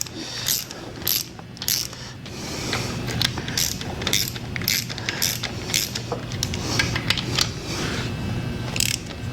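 A ratchet clicks in quick bursts as a connecting rod cap is tightened on a GM 8.0 engine during bottom end assembly, with repeated sharp ratcheting strokes and faint metallic creaks, close and steady.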